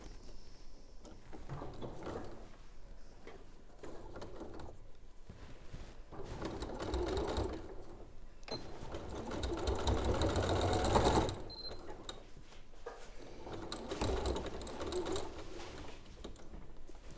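Sewing machine stitching a tab across a quilted jacket, running in bursts of rapid mechanical whirring with short pauses between, close and fairly loud.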